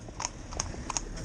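Two horses driven in tandem trot along a road, hooves clip-clopping in a quick, faint, repeated rhythm, heard from a short distance.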